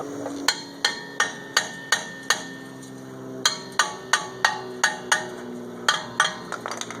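Hammer striking a Toyota Tundra rear brake rotor, about sixteen sharp metallic blows in a steady rhythm with a short pause partway through, loud and close with ringing decay.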